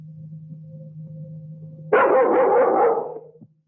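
A dog barks in a loud, close burst of several overlapping barks lasting about a second and a half, after a steady low hum, with no talking over it.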